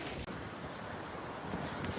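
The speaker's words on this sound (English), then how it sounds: "the wind is really terrible right now" Strong wind blowing across open water at a site where concrete trucks are arriving, a loud continuous rushing roar buffeting the microphone, with a brief dropout near the start and no speech.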